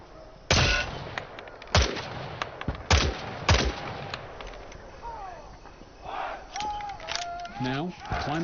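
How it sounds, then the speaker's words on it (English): Gunfire at targets in the Vietnam War shooter Hell Let Loose Vietnam, several sharp single shots spaced over a few seconds with game effects and a voice later, moderately loud. "Shoot the targets ahead, aiming for the helmet to guarantee an instant kill."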